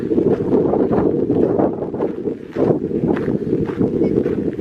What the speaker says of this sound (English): I hope that wind's not getting too strong